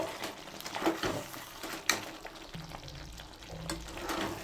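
Butter chicken gravy cooks in oil in a pan with a soft, faint bubbling sizzle, with a few light stirring scrapes and clinks.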